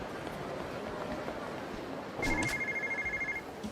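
A shoulder phone rings in the video game Yakuza 0. Its electronic trill pulses steadily for about a second over a constant street-like background hum.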